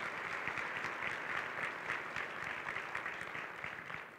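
Audience giving a round of applause for a staff mentor, a steady wash of many hands clapping at moderate distance, fairly faint and continuous throughout.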